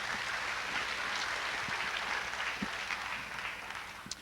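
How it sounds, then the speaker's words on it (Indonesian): Applause from a church congregation at a revival service, a steady broadband patter filling the whole stretch at moderate loudness, with a few sharper claps standing out. "Berikan tepuk tangan."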